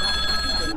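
A telephone rings with a loud, steady electronic bell tone that sounds briefly and cuts off abruptly.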